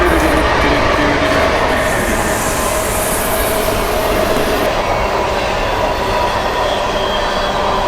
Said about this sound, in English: Second train down here in the same direction within like 5 minutes